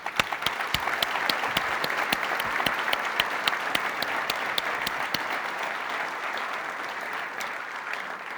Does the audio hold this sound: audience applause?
yes